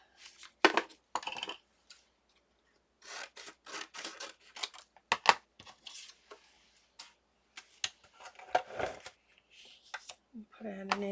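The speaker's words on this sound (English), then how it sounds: "Scissors." Scissors snip through copy paper in several short, crisp cutting bursts separated by pauses, with rustling handling sounds between cuts and no voices.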